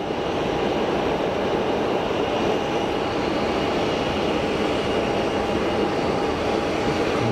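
An easyJet Airbus A320 airliner on short final at Geneva Airport gives a steady, loud broadband jet roar that stays even and continuous throughout, with no voices.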